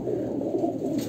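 A loft of Kalanka pigeons keeps up a low, unbroken chorus of cooing, several birds overlapping at close range without any voices.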